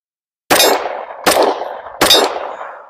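Three pistol shots from a 9mm crack in steady succession, each followed by a bright ringing clang from a steel target downrange that decays before the next shot.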